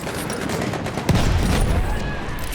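Dense battlefield gunfire from Battlefield 1 on PC, with a hostile machine gun firing in sustained bursts amid a loud, continuous wash of combat noise and a sharp blast just after one second.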